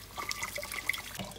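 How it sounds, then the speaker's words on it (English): Rice being rinsed for jollof rice, a soft, close splashing and trickling of water in a pan, brief and fairly quiet. "I'm just gonna give it a little rinse quickly"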